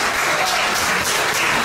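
An audience applauds the production team at the inauguration of a production studio at Karukéraland in Guadeloupe, with steady dense clapping that is loud and continuous throughout.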